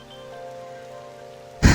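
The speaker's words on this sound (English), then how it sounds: "get out of the rain" Rain falls steadily in Persona 5 Royal, a soft, even wash of drops layered over faint game music, closing with a sudden louder burst of broadband rain noise.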